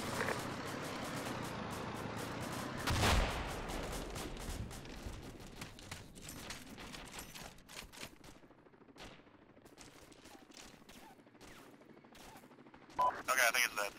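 Sustained bursts of automatic gunfire in a military shooter game, with rapid volleys and heavier blasts rolling through most of the stretch, then a few sharp single shots near the end, loud and close.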